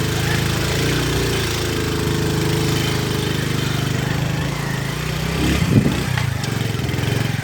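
A motorcycle stuck on a rough, difficult path drones loudly and steadily, its engine running rough and close, with a brief revving surge near the end and no talking.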